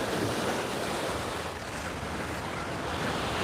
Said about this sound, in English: So the waves are coming around the point, coming around here, and all this sand.